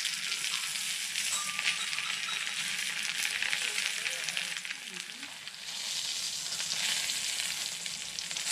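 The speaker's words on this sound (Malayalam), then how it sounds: "ദോശക്കല്ലിൽ വെളിച്ചെണ്ണ ഒഴിച്ച് വെച്ചിട്ടുണ്ട്. ഇതിലോട്ട് നമുക്ക് ഈ പൊതി ഇട്ട് കൊടുക്കാം." A banana-leaf-wrapped pearl spot fish fries in coconut oil on a tawa, producing a constant, even sizzle that dips briefly midway and then carries on at close range, with a faint voice now and then.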